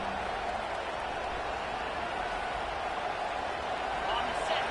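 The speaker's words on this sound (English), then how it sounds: "These fans are going absolutely nuts." A packed stadium crowd in College Football 25 roars during a road game at Ohio State, a dense, continuous wall of cheering and noise that holds steady and swells slightly near the end, with commentary over it.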